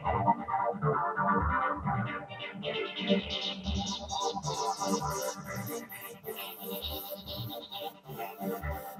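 A distorted Korg MS2000 synthesizer pattern played from its step sequencer in a steady rhythm, its gritty tone sweeping brighter and higher as it plays.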